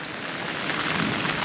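Steady rain falls on a caravan at a Tasmanian campsite, a dense even hiss of drops drumming on the roof and surroundings throughout, with no talking.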